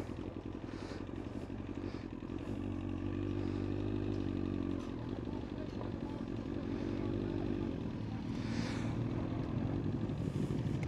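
Motorcycle engines idle and rumble at a busy bike night, alongside a Kawasaki ZX9R, as a steady low drone with some revving and clatter. The engines sound fairly distant and continuous.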